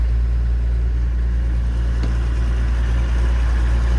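An agricultural machine's engine runs steadily at idle with its hydraulics working, a constant heavy low rumble that stays close and loud throughout.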